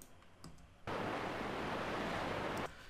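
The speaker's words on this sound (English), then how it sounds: "distant waves. Let's drop that in right here." Distant ocean waves sound effect comes in abruptly as a broad, steady wash of surf noise, fairly soft and even, then cuts off cleanly after about two seconds, preceded by faint clicks.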